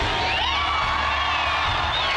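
A dense stadium crowd at a college football event in Charlottesville roars and cheers continuously, loud and close, with scattered whoops and shouts rising through the din.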